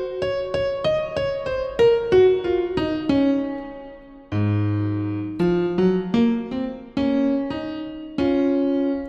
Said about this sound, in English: And now we have a piano that sounds like this.